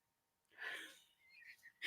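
A dog gives a short, breathy sneeze, followed by a faint snuffle and another quick sharp sneeze at the very end.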